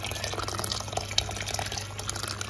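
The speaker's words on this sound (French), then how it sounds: "Et là, j'ajoute de l'eau chaude." Hot water being poured into a pot of rice on the stove, a steady close trickle and splash running throughout over a low hum, with no talking.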